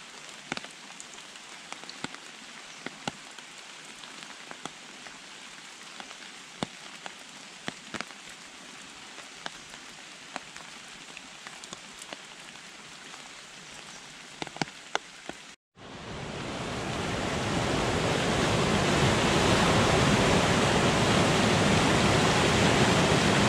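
Rain falling in the Alps near Garmisch-Partenkirchen, with a rain-swollen mountain river rushing loud and close in a dense, steady roar after quieter scattered drops at the start.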